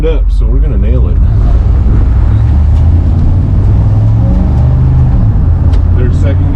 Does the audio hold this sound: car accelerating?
yes